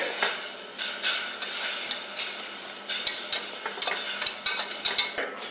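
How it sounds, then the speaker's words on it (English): Chocolate being stirred into hot cream in a pot with the heat off, a soft sizzling hiss with repeated scraping stir strokes that grow quicker and sharper toward the end, heard up close with no talking. "toss all of the chocolate in at once, all right? And start to stir right away"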